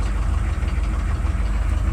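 A 1995 K1500 with a 6.5 turbo diesel idles after a cold start, a steady, loud, close low rumble with a continuous rough knocking throb and no one talking.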